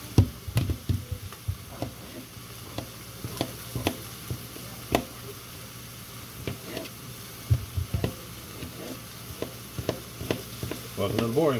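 Burgers sizzling in a pan, a continuous frying crackle under frequent scraping and knocking of a utensil against the pan, close and fairly loud.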